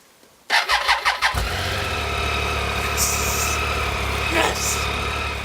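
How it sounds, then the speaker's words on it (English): Motorcycle engine starting on a cold morning: a quick series of cranking chugs catches into a loud, steady idle that runs on close by. "went out to see if his bike would start"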